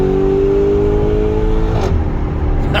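Lamborghini Urus Graphite Capsule engine revving hard under acceleration, a loud close rising drone that climbs in pitch before a sharp gear change cuts it and the roar resumes.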